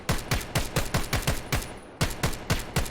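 Rapid bursts of gunfire from a rifle in the VR shooter Vail VR, roughly a dozen sharp, evenly spaced shots in two quick strings with a brief pause between, loud and close with no talking.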